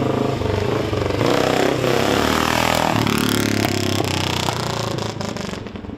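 A 1970 BSA Victor Special B44VS 441 single-cylinder British motorcycle runs steadily up close, its loud engine note rising and falling with revs and mechanical clatter throughout.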